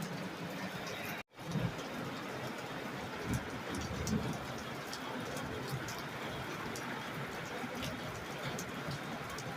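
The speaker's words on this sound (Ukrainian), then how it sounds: "гримить і дощ, і дощ" Steady rain patters on a surface with a constant hiss, a few heavier drops and small knocks standing out.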